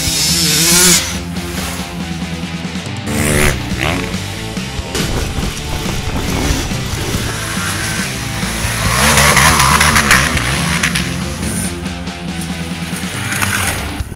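KTM off-road motorcycle engines (890 Adventure R, 300 EXC, 450 SX-F) rev hard and snarl through rapid gear changes, rising and falling in pitch, loud and close with no pauses.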